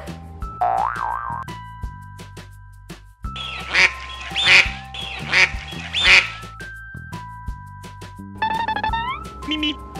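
A duck quacks repeatedly, loud and close, over a bouncy musical backing with a springy boing effect.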